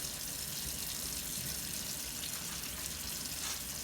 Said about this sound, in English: So you're gonna wash your hands first.